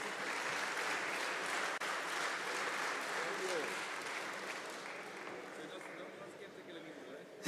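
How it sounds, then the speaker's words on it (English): An audience at a mall grand opening applauds in a sustained wash of clapping, fairly loud and even, tapering slightly toward the end. "Let's give him a round of applause."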